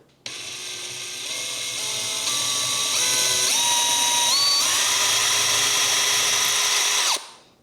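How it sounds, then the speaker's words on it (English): A power drill with a small bit whirs steadily for several seconds boring a pilot hole in a guitar, its pitch stepping up and down as the bit bores in, then cuts off abruptly. "first I'm going to drill a small pilot hole with a small drill bit here."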